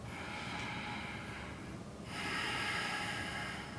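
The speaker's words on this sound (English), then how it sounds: "take 3 deep breaths" Deep, audible breaths during a power yoga session, a slow breathy exhale shifting into a sharper, louder rush of air partway through, quiet and close with no talking.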